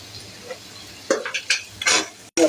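Spices for beef liver bhuna being stirred in a pan, a few sharp scraping and clinking strokes of a spoon against metal over a faint background, close and alone.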